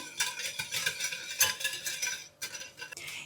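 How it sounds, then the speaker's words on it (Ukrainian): A spoon stirs dough for mini croissants after milk has been added, giving close scraping and swishing strokes in uneven bursts, fairly soft, with no voices. "Знову все перемішуємо."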